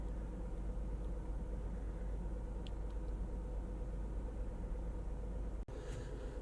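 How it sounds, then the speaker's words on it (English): A Ford Explorer engine runs steadily with a low, even idle rumble and an occasional faint irregular noise, heard close with no talking and one brief sharp click near the end. "every now and then you'll hear kind of a funny noise in the engine"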